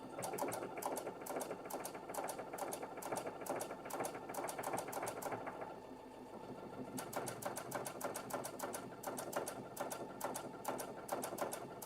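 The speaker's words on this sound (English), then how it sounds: "A really smooth sewing machine." A Baby Lock sewing machine stitching fabric runs in fast, steady stitching bursts, pausing briefly midway before resuming its rapid mechanical rhythm.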